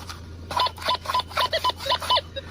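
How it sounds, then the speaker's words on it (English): A quiet electronic warbling tone from a Minelab Gold Monster 1000 metal detector pulses in short repeated bursts over a low steady hum, signalling a target in the scoop. "what the Gold Monster sounds like when you've got a target in your scoop"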